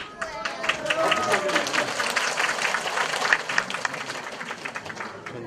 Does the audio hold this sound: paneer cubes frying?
no